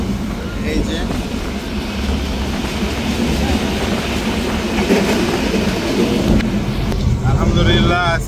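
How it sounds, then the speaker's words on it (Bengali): A moving passenger train gives a loud, steady rumble with rhythmic clickety-clack of wheels on rails, heard up close from on board, with muffled voices in the background. "ট্রেন কিন্তু ঝিকঝিক করে চলিচ্ছে"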